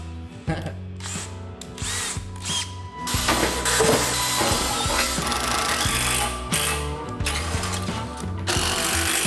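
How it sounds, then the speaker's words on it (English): A power drill whines and grinds through sheet metal on a half-scale NASCAR build in several bursts, close and loud, with brief pauses between runs. "drill a couple holes"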